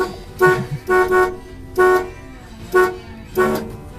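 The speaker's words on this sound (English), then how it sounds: "it's got 2 little horns under the hood, if it'll work." A 1969 Chevrolet C10 pickup's dual horns honk five times in short, evenly spaced blasts with a rich, two-tone chord, loud and close, with faint engine hum between.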